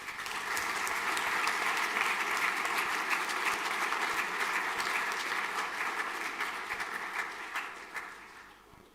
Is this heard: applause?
yes